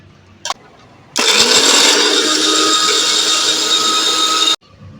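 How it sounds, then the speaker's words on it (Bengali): A mixer grinder roars to life, loud and steady for about three and a half seconds, while it grinds ginger, garlic and green chillies into paste. A faint knock comes just before and the motor stops abruptly. "এখন আমি মশলাটা পেস্ট করে নেব।"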